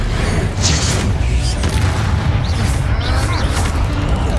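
Spell explosions crackle and boom in the Hogwarts Legacy video game, a dense, loud wash of rumbling blasts and sharp bursts layered over continuous battle noise with no clear pauses.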